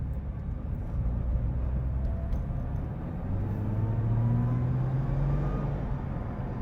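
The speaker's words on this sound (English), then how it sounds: "Just a quick little acceleration right there, you'd have heard it." A Nissan GT-R's engine rises in a short acceleration at close range, with a rising drone over a steady low rumble of road and engine noise and no talking.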